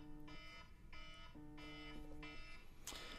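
A ten-minute timer alarm goes off in a repeating pattern: four bursts of harmonic electronic beeping, each lasting about half a second, loud and close, with no talk over it.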